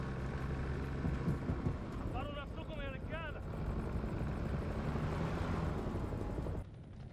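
Military helicopters in the video game House of Ashes: a loud, steady rotor drone with engine whine, which cuts off abruptly near the end.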